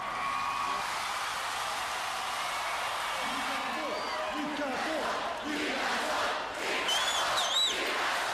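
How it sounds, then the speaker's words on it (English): A large stadium crowd roars and cheers as Newcastle win the grand final, a dense, sustained wall of noise with whoops and shouts rising through it. "Listen to the crowd!"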